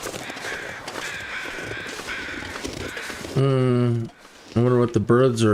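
Crows cawing in the snowy wilderness of The Long Dark, a faint wash of ambient noise at first, then several loud, harsh, close caws in quick succession near the end.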